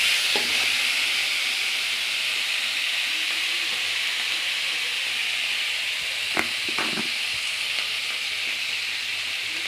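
Flat bean paste ground with garlic, ginger, green chilli and salt sautés in a pan, giving a steady close sizzle with a few sharp stirring knocks near the end.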